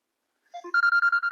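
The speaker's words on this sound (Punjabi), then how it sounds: "ਦੀਦੀ ਦਾ ਫੋਨ ਆ ਗਿਆ" After a brief silence, an electronic phone ringtone begins with a few rising notes, then repeats a bright, pulsing tone loudly and close by.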